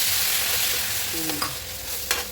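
Hot water hitting roasting semolina in a pan for pineapple kesari, a loud rushing sizzle that slowly eases, with a couple of brief clinks and stirs near the end, heard close and alone.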